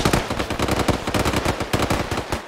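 Enemy shooters in ARMA 3 fire continuous rapid automatic bursts, loud and close, with the gunfire rattling steadily throughout.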